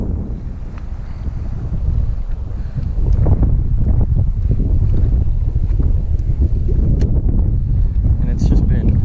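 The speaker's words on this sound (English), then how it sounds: "it's just been excessively windy" Strong wind buffets the microphone in loud, continuous gusts, a heavy rumbling roar with faint sounds of water and a boat beneath.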